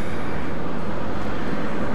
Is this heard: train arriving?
yes